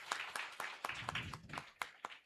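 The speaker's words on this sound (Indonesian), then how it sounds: "Sekali lagi tepuk tangan untuk para narasumber kita." Scattered, quiet hand claps come from a seminar audience thanking the speakers, a few sharp separate claps at an uneven pace rather than a full roar of applause.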